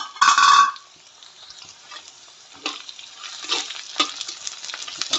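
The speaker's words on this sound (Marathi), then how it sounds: "छानपैकी फोडणी झालेली" Spices hit hot oil with a loud sharp sizzle for tempering, then quieter crackling and stirring scrapes follow in a pan close up.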